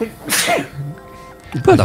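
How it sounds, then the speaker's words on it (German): A single short sneeze bursts out near the start, followed by people talking, amid a session of the space exploration game Astroneer. "Ein Nieserchen."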